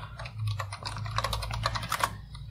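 Typing on a computer keyboard, a steady run of close, crisp key clicks over a low background hum, with no talking.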